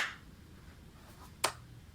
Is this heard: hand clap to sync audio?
yes